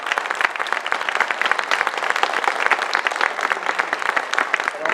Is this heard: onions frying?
no